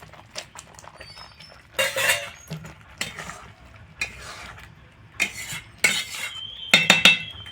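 Fried eggs go into a thick curry gravy and are stirred with a metal spoon, giving intermittent clattering scrapes and clinks against the pot between quieter bubbling, close and fairly loud, with no speech.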